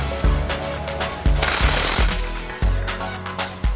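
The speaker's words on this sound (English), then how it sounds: "go ahead and tighten the bolts that fasten the differential where it belongs" An impact wrench tightens the bolts holding a limited-slip differential into place, loud rattling hammering bursts stopping and starting several times in close succession with no talk.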